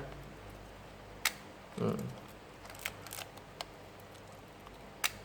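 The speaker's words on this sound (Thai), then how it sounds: "เห็นไหมจะกดชัตเตอร์ได้นะครับ" A Canon Canonet QL17 GIII film camera fires its leaf shutter with a few crisp, sharp clicks spaced apart, close and fairly quiet, with a brief soft handling thud and faint room noise between them.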